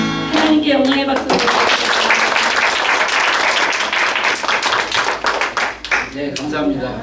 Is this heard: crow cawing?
no